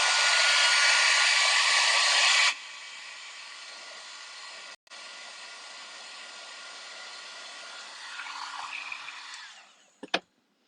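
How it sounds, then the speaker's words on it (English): A heat tool whirs loudly for about two seconds while drying Tim Holtz Distress ink on a craft project, then keeps running at a lower, steady drone before it winds down and ends with a couple of sharp clicks. "And then I could even give this a little bit of a dry."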